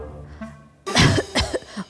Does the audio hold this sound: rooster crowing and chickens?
no